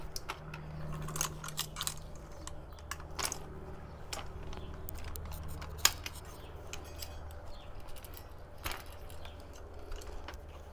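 Light clicks, snaps and metallic ticks as an adult foldable lightweight scooter is unfolded, scattered sharp taps across a quiet room with a faint steady hum underneath.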